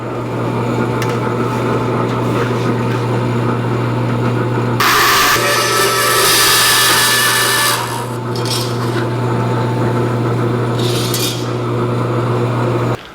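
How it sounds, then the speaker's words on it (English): Bandsaw cutting metal for a driveshaft loop on a 1949 Chevrolet gasser, a steady loud motor hum with a harsh rasping cut that swells for a few seconds, then lighter intermittent cutting bursts. "I'm having trouble on the bandsaw. I'm trying to make this cut here"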